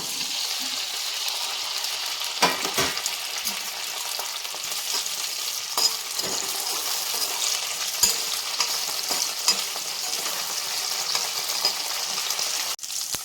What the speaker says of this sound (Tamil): முதல்ல வெண்டைக்காயை போட்டு அதில் பொரித்து எடுத்து வச்சுக்கலாம்.